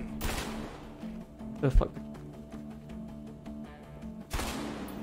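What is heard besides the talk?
gunfire in the video game A Way Out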